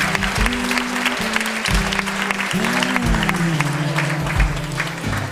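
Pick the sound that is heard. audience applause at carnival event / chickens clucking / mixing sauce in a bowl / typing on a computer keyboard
audience applause at carnival event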